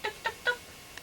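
A pet bird perched on a painter's head during a TV painting lesson makes three short chirpy squawks, then a faint fourth, spaced evenly in a quiet room.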